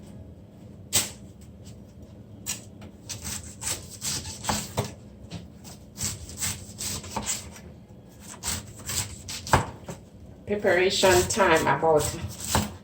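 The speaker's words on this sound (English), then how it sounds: "You cut the cabbage according to how you want it" A knife slices through a head of cabbage for corned beef and cabbage, giving repeated crisp chopping and rasping strokes at close range, with a person talking throughout.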